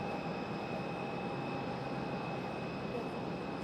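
A Discover Airlines Airbus A330-300 passes overhead near Raleigh-Durham International Airport as a steady, broad, distant jet roar with faint high whines. The noise stays even and unbroken throughout, with no voices.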